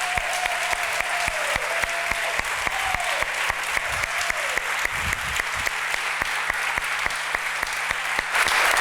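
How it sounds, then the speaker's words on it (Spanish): An audience at a literary award event applauds steadily, dense clapping filling the hall from start to finish, with a voice briefly heard beneath. "un fuerte aplauso para el gran Lorenzo Silva"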